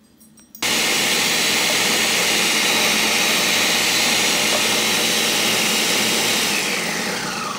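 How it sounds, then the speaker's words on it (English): A Ninja blender processes meat with melted butter, kicking in after a brief quiet moment and then roaring with a loud, steady, unbroken whir close by until the end. "I'm going to put it on and process it down to a creamy consistency"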